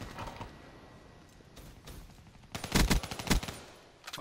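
Video game gunfire: scattered quieter shots early, then a loud close burst of rapid automatic fire, followed by a few more shots.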